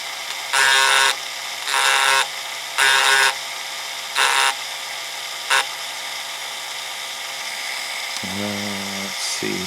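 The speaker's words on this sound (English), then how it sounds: "Don't go crazy with the Dremel." A Dremel rotary tool grinds away solder mask to form a solder pad on an NAD 2140 stereo power amplifier board, heard as five loud whining bursts, the first three longer and the last two short, then a faint low buzz.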